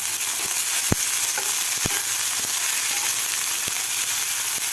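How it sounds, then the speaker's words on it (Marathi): Peas, peanuts and carrot fry in a pan, a steady close sizzle broken by a few sharp clicks or knocks of stirring. "मी ह्या भाज्याला फ्राय करून घेतलेला आहे मटार शेंगदाणे गाजर"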